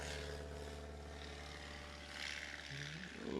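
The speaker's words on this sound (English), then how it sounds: "Chuck Olmstead on the takeoff roll." A STOL competition aircraft on its takeoff roll, a steady propeller and engine drone heard faintly at a distance, rising slightly toward the end.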